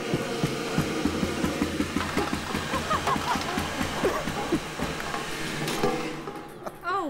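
A ping pong ball launcher's motors spin up on turbo, giving a steady, close whirring hum with a faint rhythmic ticking that holds throughout and cuts off shortly before the end.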